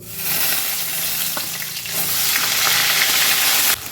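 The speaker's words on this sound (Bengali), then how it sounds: "ভালো করে লাল করে একটু ভেজে নিই" Onion and green chilli paste fries in hot oil with cardamom and cinnamon, giving a loud, close, continuous sizzle broken by stirring scrapes, then cutting off abruptly near the end, with no talk.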